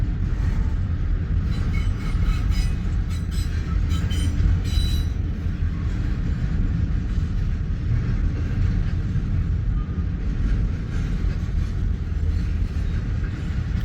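A Norfolk Southern westbound freight train passes close by in Fremont, Nebraska, a steady, loud rumble of wheels and cars lasting many seconds with faint metallic squeals.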